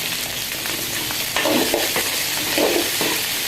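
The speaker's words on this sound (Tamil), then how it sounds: "அதுக்கப்புறமா நம்ம காயெல்லாம் போட்டு நல்லா வதக்கி எடுத்துக்கணும்." Vegetables are sautéed with salt in a pan, giving a continuous hissing sizzle. Several scraping stirs of a spatula come through close up, with no voices.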